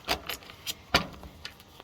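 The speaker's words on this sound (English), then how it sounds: "I am going to try to shuffle these cards." Tarot cards being shuffled by hand, heard as a series of short, crisp rustling bursts at irregular intervals, fairly close and quiet, with no talking.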